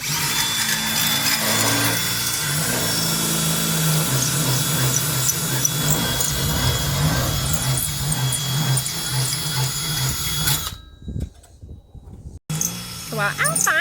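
Power drill whirring in sustained bursts while solar panels are installed on an RV, fairly close and steady for most of the stretch, then a brief drop-off before resuming, with people talking at times.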